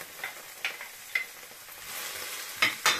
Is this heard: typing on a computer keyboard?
no